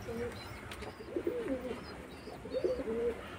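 Pigeons in a loft, nesting birds with eggs and a growing chick, coo softly in repeated rolling phrases at close range over a low background hum.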